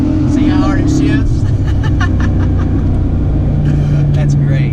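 Cammed 2009 Pontiac G8 LS with a V8 pulling hard through the gears, a loud steady engine drone heard from inside the car with a shift partway through, with people talking over it.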